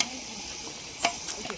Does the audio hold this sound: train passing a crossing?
no